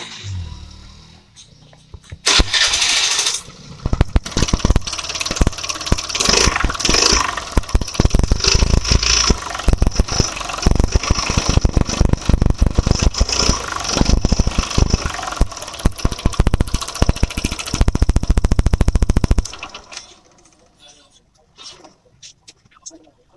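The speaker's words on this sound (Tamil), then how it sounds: "பைக்கை ஸ்டார்ட் பண்ணி சவுண்டை கேளுங்க." A Suzuki Access 125 scooter with about 50,000 km on it starts up and idles loudly and steadily for around fifteen seconds, then cuts off, with no talk over it.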